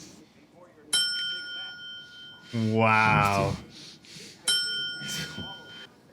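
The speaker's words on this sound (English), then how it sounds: "An origin story for the bell?" A small hand bell, rung in a TV drama scene, gives two bright, clear rings several seconds apart, each with a lingering metallic decay, while a voice exclaims briefly between them.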